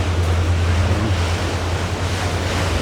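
Sea waves wash at the seaside in Melaka, Malaysia, as a loud, continuous surf roar. Wind buffets the microphone throughout.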